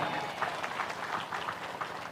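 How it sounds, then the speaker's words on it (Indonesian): An audience at a lecture breaks into applause, a dense, continuous patter of many hands clapping at a moderate distance, steady and fairly soft throughout. "Tepuk tangan."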